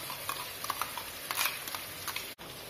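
Finely ground spice paste is added to a pan for Hyderabadi chicken, with a soft, steady sizzle of frying under light clicks and scrapes of a spoon against the pan, cut by a brief dropout near the end.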